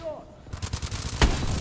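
Gunfire in the video game Call of Duty: Advanced Warfare: a rapid burst of shots with a louder blast near the middle, with voices under the gunfire.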